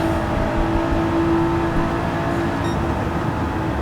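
A race car in Gran Turismo 7 accelerates hard with a steady, sustained engine whine that holds at an even level throughout, with no voices.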